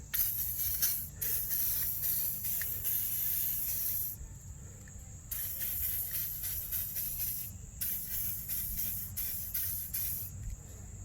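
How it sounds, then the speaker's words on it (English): WD-40 hisses from an aerosol can onto the axle hub of a 2000 Ford Ranger during a hub bearing change. Several close, loud bursts of varying length are broken by short pauses. "I'm gonna get in there and clean this mess up with some WD-40"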